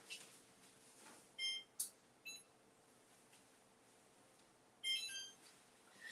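A kitchen timer on an oven set to 350 beeps in short electronic bursts, a few quick bleeps early and another cluster near the end, faint and close in a quiet kitchen.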